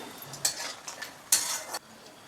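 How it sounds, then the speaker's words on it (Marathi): Mace being dry roasted in a pan over medium heat while a spoon stirs it, giving soft scraping rustles with two louder bursts of stirring close up. "जायपत्री खूप हलकी असते लगेच करपते मध्यमाच्यावर भाजून घेऊया"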